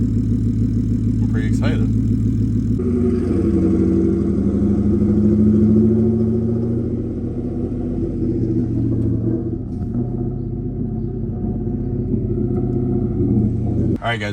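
A twin-turbo Coyote V8 Ford F-150 drives down the road with a steady, loud engine rumble that shifts in pitch as it pulls along, heard from inside the cab.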